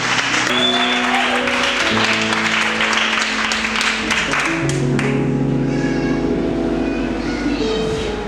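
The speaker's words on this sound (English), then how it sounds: "clap like one who's ready to receive your portion" A church congregation claps loudly and continuously during a praise service, a dense, steady wash of many hands over sustained musical tones, the clapping thinning somewhat after the midpoint as the held notes carry on.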